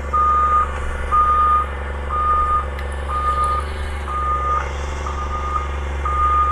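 A snow-clearing machine on the move at Seymour ski resort in Vancouver, its reversing alarm beeping in a steady, evenly spaced series over a constant low engine rumble, loud and close, with no one talking.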